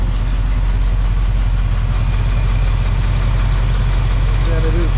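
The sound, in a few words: 1967 Pontiac Firebird 400 engine idling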